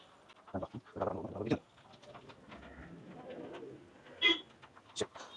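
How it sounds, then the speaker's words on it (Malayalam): Pigeons perched close by at the Mookambika temple give a few soft coos and wing flutters, faint and intermittent, under scattered background noise and some brief shuffling sounds. "രണ്ട് പ്രാവുകൾ ഇങ്ങനെ ഇരിക്കുന്നുണ്ട്"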